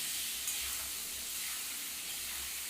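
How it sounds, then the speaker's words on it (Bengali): Potatoes fry in hot oil in a home kitchen pan, giving a steady, close sizzle and hiss that lasts the whole time with no talking. "এইবার এই তেলের মধ্যে দিয়ে আলুটাকে একবারে আমি তেলটা দিয়ে দিয়েছি"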